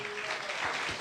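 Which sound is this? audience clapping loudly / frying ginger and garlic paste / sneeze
audience clapping loudly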